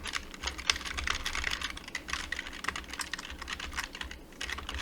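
Rapid typing on a computer keyboard, dense close clicking keystrokes in a fast irregular rhythm running continuously without speech.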